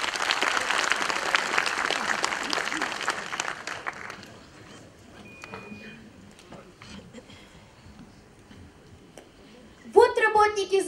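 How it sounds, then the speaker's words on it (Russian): Audience applause at a festive concert for Defender of the Fatherland Day, a dense, loud burst of clapping that fades over about four seconds, followed by quieter room noise and a short voice at the end. "Ваши дружные аплодисменты!"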